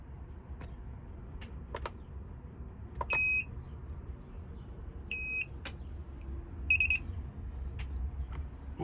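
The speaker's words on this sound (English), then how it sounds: "The AK90 should beep." An AK90 BMW key programmer gives short electronic beeps, three brief tones spaced a couple of seconds apart over a faint room hum, each clear and close.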